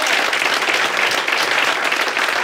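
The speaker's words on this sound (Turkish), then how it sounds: "Bir alkış." Dense, steady applause from a studio talk-show audience, many hands clapping continuously at full volume throughout.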